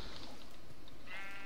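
A sheep bleats in a survival video game, one short wavering bleat over a constant dense game backdrop.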